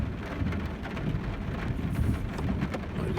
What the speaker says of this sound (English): I just heard some thunder.